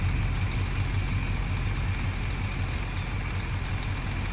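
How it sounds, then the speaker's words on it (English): A loud truck engine in Farming Simulator drones steadily at idle, a deep continuous rumble with no pauses and no talking. "I think I might have to shut that truck off because that's really loud"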